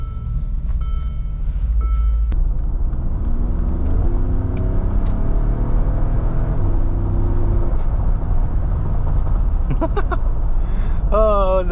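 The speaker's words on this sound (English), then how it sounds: "Oh, the engine just sounds great" A Mercedes G63 engine rumbles deeply and steadily from inside the vehicle, with someone talking over it and a few faint beeps.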